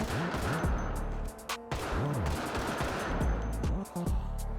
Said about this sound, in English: I'd managed to kill all of the zombies on the roof before swapping to my M16.